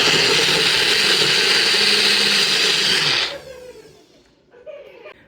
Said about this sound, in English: So I just cut my onions in chunks like this, put it in my bullet.